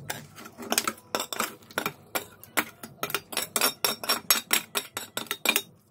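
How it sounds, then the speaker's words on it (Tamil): Quick, uneven scraping clicks of a metal spoon against a pot as sautéed vegetables are stirred into rice with coconut milk, close and continuous, with no talking. "இப்ப நான் இதுக்குள்ள வதக்கி வச்ச வெஜிடபிள்ஸ் மிக்ஸ் பண்ண போறேன்"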